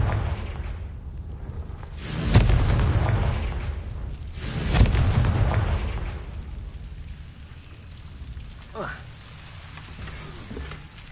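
Two deep booming blasts from the Confringo explosive spell in Hogwarts Legacy, each a heavy low impact that rumbles away, set against faint ambient background and a few softer sounds later on.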